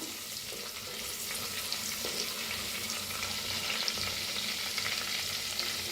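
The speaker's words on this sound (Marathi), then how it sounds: "हलकसं भाजून घेऊया." A stuffing masala with cumin, asafoetida and coriander leaves crackles in a pan while being lightly roasted for stuffed tomatoes, a dense, even, close sizzle that holds steady throughout with no talking.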